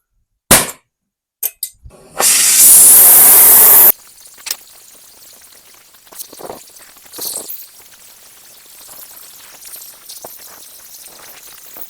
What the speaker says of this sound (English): We'll see if my torch goes through it.